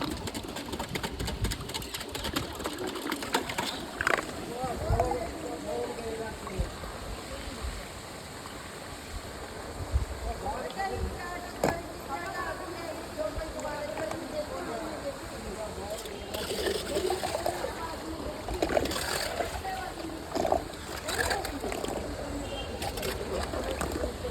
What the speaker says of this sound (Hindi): पानी फुल गंदी तरह गिर रहा है नीचे।